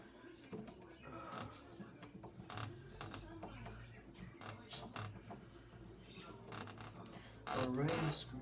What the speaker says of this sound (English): I'm screwing it in